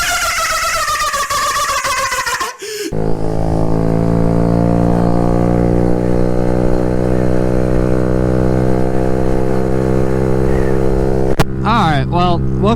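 An engine revving high and holding a steady, sustained drone for several seconds, loud and close, with a sharp cut and brief noises before and after.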